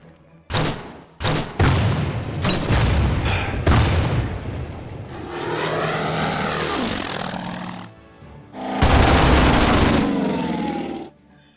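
Soviet artillery shells a position in the Order of Battle WWII strategy game: a rapid series of heavy booms and blasts, followed by a sustained roaring sweep like aircraft passing overhead and a final long rumbling barrage.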